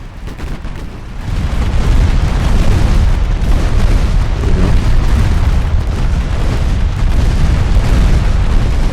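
A deep, rumbling torpedo-hit explosion in the naval game Ultimate Admiral Dreadnoughts, rising after a second into a loud, sustained boom that fills the rest of the clip.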